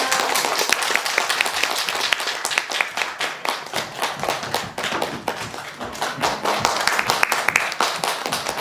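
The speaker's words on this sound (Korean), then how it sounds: "박수로 모셔주겠습니다." Audience applause welcoming speakers onto the stage at a book talk event, with lively, uneven clapping of moderate size that swells and dips over several seconds, fairly close and without talk over it.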